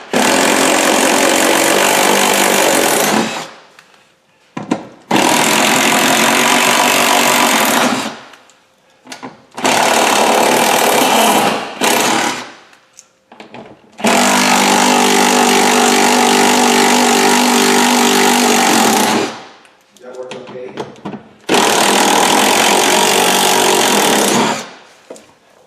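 A power tool drives out screws from a car's rear passenger door panel in several long, loud buzzing bursts, each a few seconds long and separated by short pauses, heard up close.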